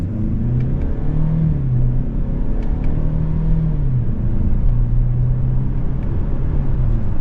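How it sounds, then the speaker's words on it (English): A 2024 Lincoln Corsair Reserve II with an 8-speed automatic downshifts to first and accelerates, its engine a steady close rumble with the pitch rising and dropping across gear changes, heard alone without talk. "Now we're going to downshift. Back to first."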